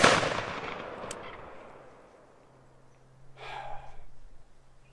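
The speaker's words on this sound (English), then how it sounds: "Do I want to shoot it again?" A single loud firearm shot at an outdoor shooting range cracks at the very start and rings out with a long decaying tail, followed by a fainter rustle a few seconds later.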